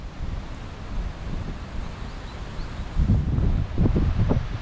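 Gusty wind buffets the microphone at a beach, a low roaring rush that swells stronger toward the end.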